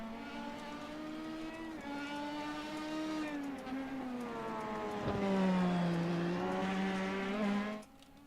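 Race cars lapping the Long Beach street circuit in a racing game, among them a Ferrari, with sustained revving engine tones that rise and fall through the gears, one car passing close and loud before the sound drops away at the end.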